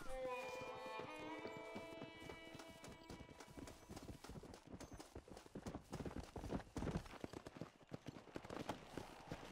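Horse hooves clip-clop at a steady gallop in Red Dead Redemption. The quick rhythmic beats carry on throughout, with a musical score ringing underneath.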